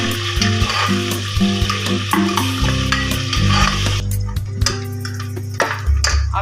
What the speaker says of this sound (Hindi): अब इसमें शामिल कर देंगे 1 बड़ा प्याज, इसको हल्का सा ब्राउन करेंगे।